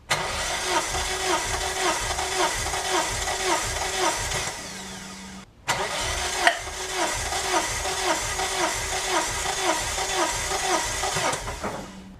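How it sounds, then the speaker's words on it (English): An Eclipse 420A engine cranks over repeatedly during a compression test, a loud, close, rhythmic chugging of the starter turning it with no firing, pausing briefly midway before cranking resumes at the same steady beat. "That's a lot more cranks than some people would normally do on the compression test."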